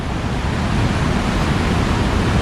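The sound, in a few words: water flowing through a landslide-hit village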